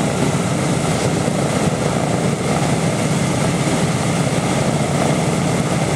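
Loud, steady B-17 bomber propeller engine drone at Grimes Field, a dense continuous roar with a pulsing low throb and no pauses.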